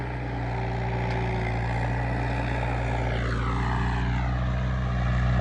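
An HMT 5911 tractor, fitted with a Sonalika engine, runs at a steady idle, with a loud, continuous low throb that holds constant throughout with no talking.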